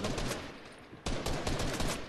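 Automatic gunfire in a video game, a quick rattling burst, a short lull and then another burst, fairly faint in the mix.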